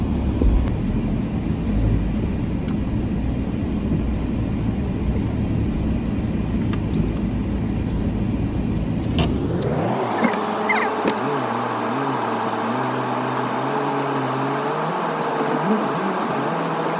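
A car engine rumbles steadily under crunchy rolling noise, then the sound shifts abruptly partway through to a lower, rougher drone with bumps and scrapes.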